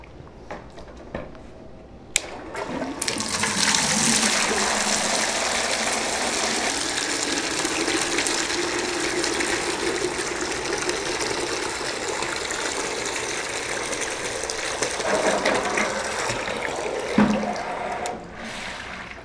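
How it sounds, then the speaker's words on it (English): A Reed Pump Stick cordless power water pump starts with a click and runs with a loud, steady whirring rush of water for most of the stretch, then shuts off near the end. "now I will demo the pump stick"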